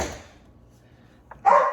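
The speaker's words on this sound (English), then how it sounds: "Sorry about the dog." A dog gives a short, sharp bark or two near the end, fairly close by, after a quiet stretch in a room where freeze-drying supplies are handled.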